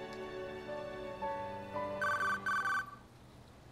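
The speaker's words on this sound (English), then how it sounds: "Unexpectedly, his cell phone rang." A cell phone rings in the video game 428 Shibuya Scramble. A melodic tone rises note by note, then bright, loud ring bursts repeat in quick pulses before cutting off.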